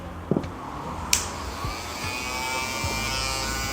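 Wahl Vapor cordless hair clippers, fitted with a replacement cover, run with a steady electric buzz throughout, preceded by a couple of short handling clicks and taps.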